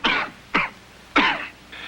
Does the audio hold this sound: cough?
yes